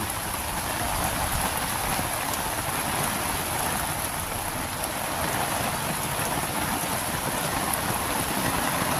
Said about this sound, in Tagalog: Sobrang lakas ng ano, sobrang lakas ng ulan